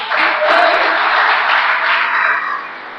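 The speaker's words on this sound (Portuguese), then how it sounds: "Você pode aplaudir o Senhor?" A church congregation applauds during a Christian service in a loud, close, sustained wash of clapping that lasts about three seconds and eases slightly at the end.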